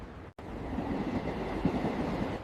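A train runs steadily along the rails with a continuous low rumble and faint rhythmic clatter, heard from inside or nearby at moderate volume after a brief cut at the start.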